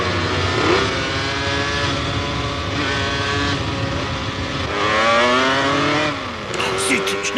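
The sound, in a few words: race car engine accelerating during overtaking attempt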